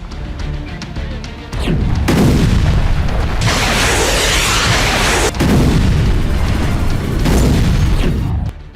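Artillery and multiple rocket launcher fire in wartime combat around Kherson: loud, rolling booms and blasts that follow one another almost continuously, with heavy rumbling between them and no talk.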